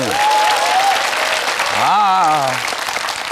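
Studio audience applause at a Korean lecture-style TV talk show, a broad steady wash of clapping throughout, with a voice speaking over it at moments.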